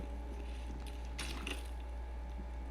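Elevator mechanism in Baldur's Gate 3, a low mechanical hum with faint clicking and grinding gear sounds and a brief rattling burst midway, no talk.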